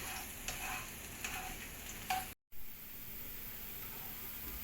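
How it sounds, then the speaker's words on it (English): Onions sautéing in oil in a preheated pan, a steady, quiet broadband sizzle with a few soft clinks of stirring and a brief dropout midway, no voices. "We need to take our preheated pan with the oil, and then we are adding the onions. And we are sauteing it"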